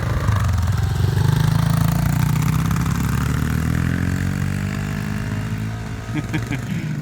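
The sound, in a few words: Honda CRF250F dirt bike engine revving while shifting gears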